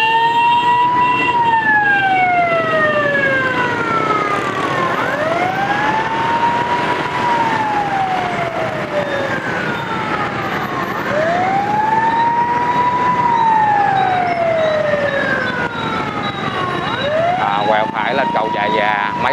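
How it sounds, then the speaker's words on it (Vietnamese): An ambulance siren wails in rising and falling sweeps through busy Saigon street traffic, loud and continuous over a dense rumble of motorbikes and cars, with voices talking underneath. "nhường cho xe cứu thương qua đó."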